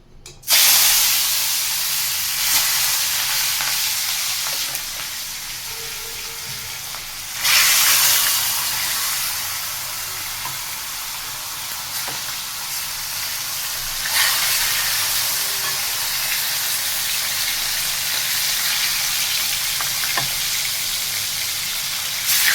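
Bhetki fish pieces coated in salt and turmeric slide into hot oil and fry with a loud, steady sizzle and hiss that swells as more pieces go in, around the start, near 7 seconds and near 14 seconds. No one talks.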